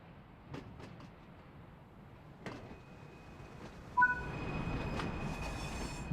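A train in Train Sim World 3 on the Peak Forest Railway route, heard as a low rail rumble with occasional clunks. Partway through, a thin squeal and tonal whine rise as the train moves. The sound stays faint and no one talks.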